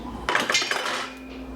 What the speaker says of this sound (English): I'm just basically cutting it off, then going on the inside and raking it out